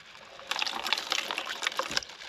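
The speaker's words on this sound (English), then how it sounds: "They don't require a lot of water to rinse." Water pouring and swirling over harvested pepper seeds as they are rinsed in a container, a short splashy gush starting after a quiet moment and continuing close by.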